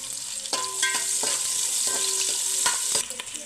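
Onions and green chillies sizzle steadily in oil in a pan, while a spoon scrapes and clinks against the metal every second or so, close and moderately loud.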